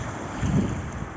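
Strong wind roars steadily at the seashore and buffets the microphone, a dense, loud rush that swells slightly midway, with no voices.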